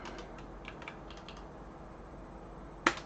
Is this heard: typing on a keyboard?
yes